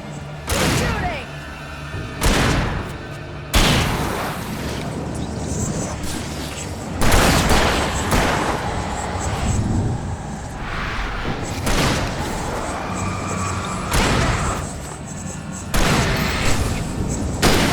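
Gunfire in the Alan Wake PS5 Remaster game comes as repeated heavy thumping shots in irregular bursts amid a dense, continuous layer of game noise and music, with a player talking throughout.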